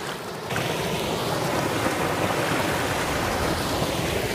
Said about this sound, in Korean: 물소리도 한번 들려드리고